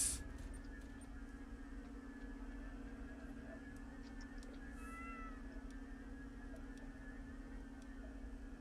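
A cat in the horror video game DreadOut 2 gives a faint, drawn-out meow over a steady background hum.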